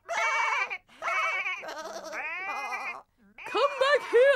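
Sheep bleat in a cartoon, a string of several wavering, voice-like bleats in quick succession with short gaps, loud and close.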